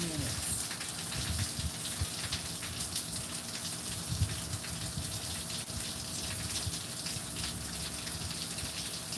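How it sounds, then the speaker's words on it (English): Steady rain falls on a summer day in a continuous close wash of patter and drips, with no talking. "let you all listen to the calming sounds of the rain for a few minutes"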